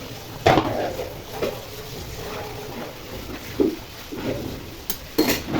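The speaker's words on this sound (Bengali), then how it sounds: "এখন আমি নেড়ে চেড়ে দিব।" Spoon scraping and knocking inside a pot of simmering chicken and potato curry, with a few soft clatters spread out over a low steady background hiss.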